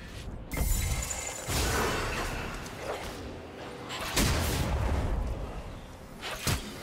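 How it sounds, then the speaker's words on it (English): A defensive turret collapsing in League of Legends: a loud crumbling, shattering rush with sharp impacts and booms over continuous game noise. "Blue team's turret has been destroyed."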